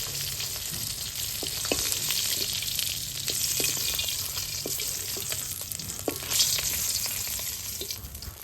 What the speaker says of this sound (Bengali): মাছ ভাজি হয়ে গেছে, মাছ ভাজি নামিয়ে নিব।